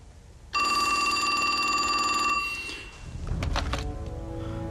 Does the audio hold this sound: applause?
no